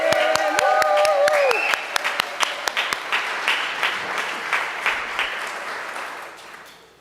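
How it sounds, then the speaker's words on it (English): A church congregation at a Sunday service applauds the organizer of a fall fair. Sustained clapping opens beneath a brief voice, then thins into scattered claps that fade away. "Carol deserves a huge round of applause for the work she has done over organizing the fair"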